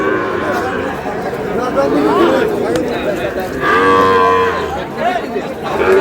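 Cattle, including Sahiwal bull calves, moo repeatedly amid the chatter of a busy crowd at an outdoor livestock market in Cumilla, Bangladesh, with people talking nearby.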